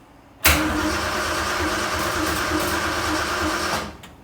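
A truck engine cranks and turns over with gasoline in the carburetor, a loud, abrupt start followed by several seconds of steady churning, rattling engine noise that cuts off near the end.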